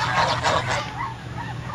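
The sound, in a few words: duck calling outdoors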